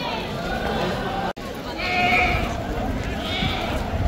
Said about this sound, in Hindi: ये एक बकरा है और पीछे कोई बकरा आ रहा है माशाल्लाह।